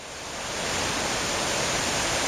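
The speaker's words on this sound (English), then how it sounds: "We got the river rising right up to here. Been raining for a couple of days straight." A rain-swollen, flooding river rushes in a dense, continuous roar of water, swelling up over the first half second and then holding steady and close.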